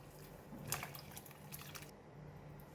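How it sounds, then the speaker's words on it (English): Pork bone broth is poured through a strainer into a large basin, giving a faint, steady trickle and splash with a few brief drips, heard alone and close. "Pour the broth over the strainer with a large basin underneath to collect the pork broth."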